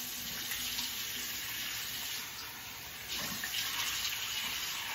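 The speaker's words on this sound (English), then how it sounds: "I've warmed up the water a little bit" Warm water runs from a bathroom tap into a sink during a face wash, a steady close hiss and splash with slight shifts as hands move through the stream.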